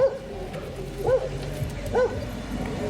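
A female dog in heat during obedience training gives three short, close whimpering yelps spaced about a second apart over a low background rumble.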